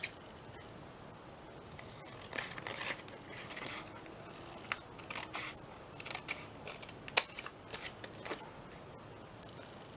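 Scissors cutting paper craft pieces, a series of quiet close snips and rustles spread irregularly over a soft background.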